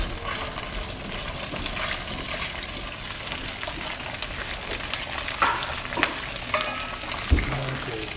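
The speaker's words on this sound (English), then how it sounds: "We're going to start stirring those ingredients together." Calabrese pepper paste, anchovy paste and other ingredients stir and fry in a hot pan for a lemon shrimp linguine. A steady, close sizzle runs throughout, with scraping stir strokes and a few brief clinks near the end.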